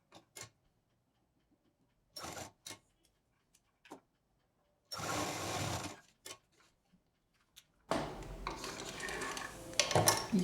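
Sewing machine stitching lace onto a patchwork shoulder bag, short bursts of rapid mechanical clatter separated by quiet pauses and small clicks, with a longer run of stitching at the end.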